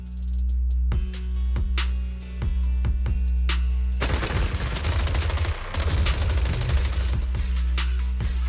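Gunfire from the Zenless Zone Zero video game: a few sharp single shots ring out over a steady low hum, then a dense, sustained volley of rapid firing erupts and continues loudly.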